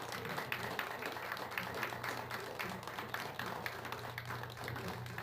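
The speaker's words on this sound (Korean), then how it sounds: "박수로 한번 해주시기 바랍니다" Audience applause at a cultural center opening ceremony in Busan, a steady dense patter of many hands under a low hum, with faint talk mixed in.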